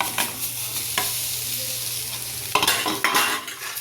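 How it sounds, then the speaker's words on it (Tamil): Beaten rice upma with gooseberry is stirred in a frying pan, a close steady sizzle with a few sharp scrapes and clinks of the spoon against the pan. "சேர்த்து நல்லா கிண்டி விடுவோம்"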